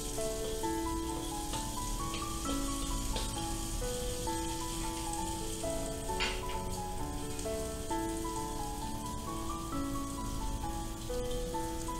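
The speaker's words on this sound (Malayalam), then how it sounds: "ഇനി സവാള കൂടി ചേർത്ത് ചെറുതായിട്ടൊന്ന് വഴറ്റിയെടുക്കാം." Onions and green chilli sauté in a pan for shrimp fried rice, giving a soft, even sizzle that runs steadily under gentle background music.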